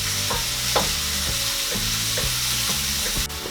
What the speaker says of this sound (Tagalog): ngayon ay pwede na po nating isunod itong ating sibuyas. Tapos hahaluin lang po natin.